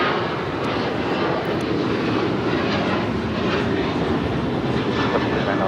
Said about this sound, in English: This is American Airlines 2608 taking off to Chicago on the 737-800